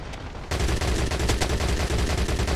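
Sustained automatic gunfire in the multiplayer shooter Crossfire X starts abruptly and continues as a dense, steady rattle of loud shots.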